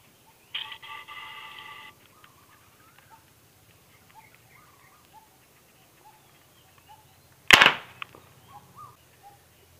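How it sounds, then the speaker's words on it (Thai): A homemade PVC alcohol-powered gun fires once with a sharp, loud pop, preceded by a brief buzzing ignition tone and followed by quiet handling sounds. "การยิงปืนแอลกอฮอล์"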